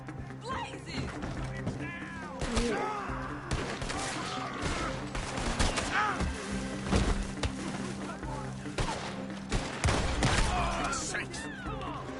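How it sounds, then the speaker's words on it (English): Gunfire erupts in a Wild West shootout in Red Dead Redemption 2, with repeated sharp bursts scattered through a busy mix of music, game noise and voices talking over the action. "Gunshot, fellas, there they are."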